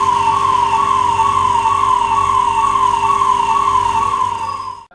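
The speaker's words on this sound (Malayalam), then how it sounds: "അപകട സൈറൺ മുഴക്കി ഫയർ ആൻഡ് റെസ്ക്യൂ വിഭാഗം എത്തിയത്" A fire and rescue truck arriving at a government high school for a mock drill sounds its siren, a loud, close, wailing tone held steadily before cutting off abruptly at the end.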